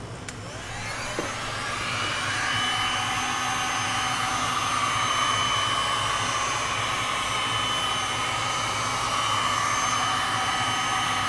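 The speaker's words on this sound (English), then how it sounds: "I'm going to use a heat gun" A heat gun blows steadily over a freshly poured resin coating on a painting, a loud, continuous airy roar that starts up and holds level without pauses.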